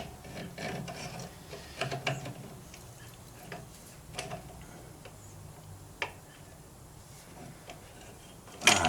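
A wrench ratchets on a shaft of a Dixon 72 ZTR mower under repair, producing scattered clicking and ticking bursts in uneven spurts with quiet gaps, close and fairly faint, ending in a louder clatter.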